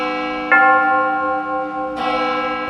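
A church bell tolling at 21:37, two loud resonant strikes about one and a half seconds apart, each ringing out with a long humming decay and no talk.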